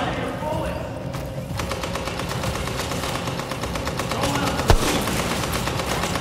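Rapid turret gunfire in a combat video game, a steady stream of shots running throughout with one sharp louder blast near the end, loud and close under mixed game noise.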